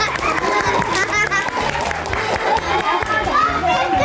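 Lively clapping from a studio audience on a children's after-school program, welcoming a guest's monkey, runs steadily over a beat-driven music track with children's voices mixed in.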